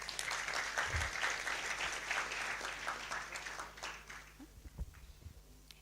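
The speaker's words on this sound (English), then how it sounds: "So a round of applause for her." An audience at a university summit gives a brief round of applause, soft and distant, the clapping fading out after a few seconds.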